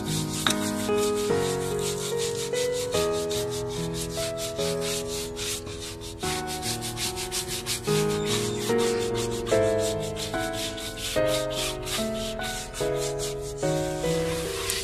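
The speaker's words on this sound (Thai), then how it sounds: "ยิงขัด ขัดเท่าไรยิ่งนานเท่าไรก็ยิ่งมันดิ" A black rubber tyre wheel is rubbed and polished by hand in steady, continuous back-and-forth strokes, close and even, with no talk.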